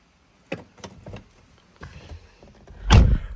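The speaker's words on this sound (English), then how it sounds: "Close the car door" A BMW M240i's car door closes with a solid, heavy thunk, preceded by a few light clicks and rustles nearby, with no talk.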